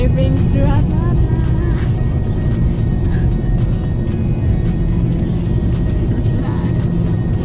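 A car driving through Atlanta gives a steady, loud low road rumble and engine drone throughout, with faint voices talking over the cabin noise.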